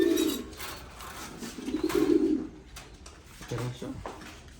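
Racing pigeons coo in low, soft bursts, three rounded phrases spaced a second or so apart over a quiet background.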